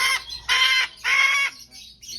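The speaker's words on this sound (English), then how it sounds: "It's the cockatoo that's screaming or squawking." Cockatoo screaming in a parrot pet shop, three loud harsh squawks in quick succession followed by fainter calls, close and clear with no talking.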